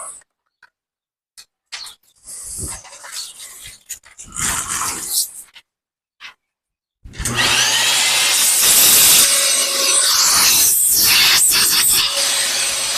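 A Bissell Garage Pro wall-mounted vacuum cleaner starts after some scattered handling knocks, then runs loud and steady with a broad rushing whine for several seconds.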